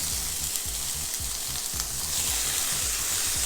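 Green onions and minced garlic frying in a pan for rasta pasta, a loud continuous sizzle close up with rapid rhythmic stirring scrapes throughout.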